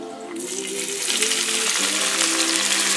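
Cajun holy trinity of chopped vegetables hits a hot quality pot or skillet for shrimp and grits and sizzles loudly and steadily throughout, a broad close frying hiss with a faint tonal hum beneath.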